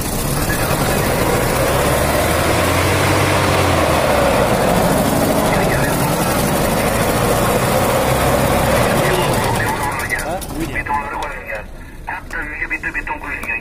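A GAZ Volga car engine revs hard in a loud, sustained roar that drops away near the end, with voices talking over the engine noise.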